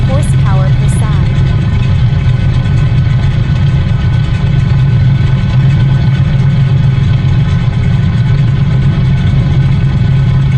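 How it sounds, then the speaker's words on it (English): A pair of 360-horsepower radial aircraft engines roar in a loud, unbroken, heavy drone with a deep throbbing low end, heard from close by and holding steady throughout. "Just listen to the sound of those two radials"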